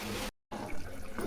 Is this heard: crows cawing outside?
no